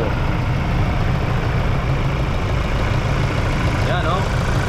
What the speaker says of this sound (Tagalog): Pa-start natin yung engine, parinig natin kung gaano katining yung